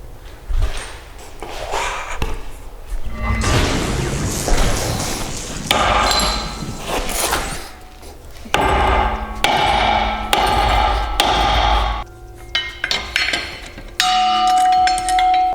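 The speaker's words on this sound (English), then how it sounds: "Or we could try a sledgehammer." A sledgehammer hits a stuck torque converter on a Nissan Titan in repeated heavy metallic blows. The strikes ring like a bell and come in irregular bursts, loud and close, with no talk.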